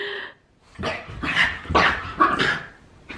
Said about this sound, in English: Money, this dog right here, she's my childhood dog